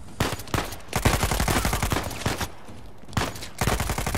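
Sustained gunfire in the video game Uncharted 4, with loud rapid bursts of shots rolling almost without pause for a few seconds, brief lulls between volleys, and no voices.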